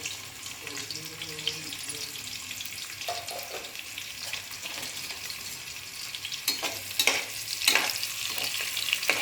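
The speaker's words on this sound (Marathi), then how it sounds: "कांदा घालून घेते" Chopped onion sizzles in hot oil as a tempering for a pea and potato masala rice. The steady frying hiss and stirring scrapes grow louder toward the end, with a faint voice early on.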